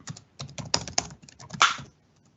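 Fast, irregular keystrokes on a computer keyboard, close and fairly loud, in quick bursts with a heavier clatter near the end.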